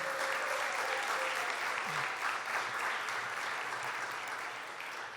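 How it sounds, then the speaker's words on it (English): Steady applause from an audience at a government event with Governor Hochul, a dense wash of clapping sustained evenly throughout without a break. "let's give another round of applause to our great secretary"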